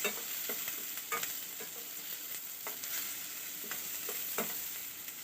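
Onions sauté in a pan, a continuous fine sizzling hiss punctuated by soft repeated spatula scrapes at a moderate pace, heard close without any voices.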